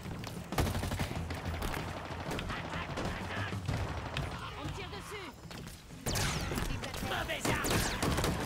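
Rapid gunfire and explosive blasts from Halo Infinite on Xbox Series X, loud and dense for most of the stretch with a brief lull before another heavy burst, while players talk over the top.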